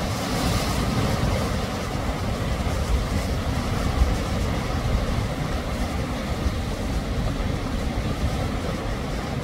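Sea surf pushed by wind, with foamy water churning in a steady, unbroken wash and rumbling wind noise buffeting the microphone throughout, no voices.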